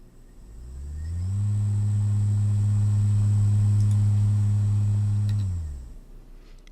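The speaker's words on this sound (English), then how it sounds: "you can hear it from the motor, a sort of hum or a screech" An electric motor driven by trapezoidal commutation gives off a loud, steady hum with a faint high whine for several seconds, then winds down at the end.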